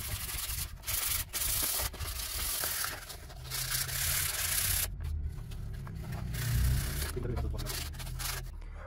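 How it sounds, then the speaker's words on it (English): Hand sanding of BMW E46 interior plastic trim with sandpaper, a continuous close rasping scrub with rhythmic strokes and brief pauses, steady and fairly loud throughout. "I can actually feel the sandpaper heating up a lot."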